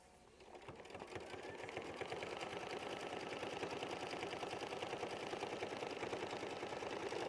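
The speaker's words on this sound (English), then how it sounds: "then we're going to sew, and this will be machine stitch step 13" Embroidery machine stitching fabric pieces for a quilt sampler block, a steady rapid mechanical chatter that starts softly and quickly settles into a constant even rhythm.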